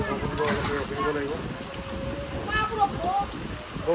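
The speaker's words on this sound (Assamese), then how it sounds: "বৰষুণটো একেবাৰে নেৰিছে" Steady rain falls outdoors during a pumpkin delivery at Dhing bazar in Nagaon, a continuous patter heard under people talking throughout.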